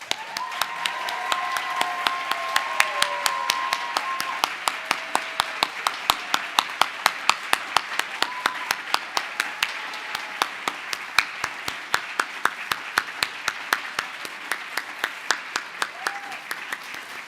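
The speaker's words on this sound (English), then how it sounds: "Elizabeth Taylor, please stand so we can applaud you." An audience at a book critics' awards ceremony claps in sustained applause, many hands forming a dense steady patter with sharp individual claps standing out, while a few voices murmur underneath.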